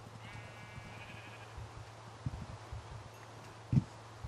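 Faint sheep bleats from the Minecraft video game over a low steady hum, with a few soft thuds and one sharper knock near the end.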